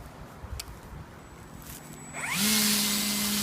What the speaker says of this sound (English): So you got a lot of string in this thing, and you just bump it to make it come out